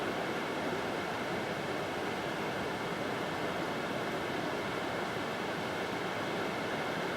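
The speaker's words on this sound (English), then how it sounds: "God, that's a gorgeous waterfall." A continuous, dense roar of water pours down Belmore Falls in the Southern Highlands near Robertson, heard from a lookout, even and unchanging in loudness from start to finish, with no voices over it.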